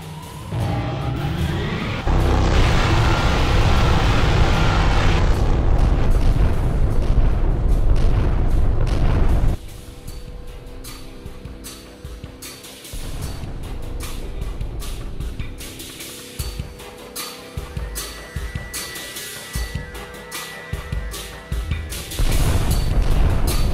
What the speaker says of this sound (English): Targeting the Chitin with primary photon beam cannons. Gunnery control, open fire.